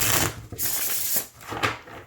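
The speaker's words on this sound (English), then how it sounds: "it's really flexible and it shuffles beautifully" A tarot deck printed on thin, flexible Llewellyn cardstock being shuffled, close riffling and sliding card sounds in a few soft bursts with short gaps.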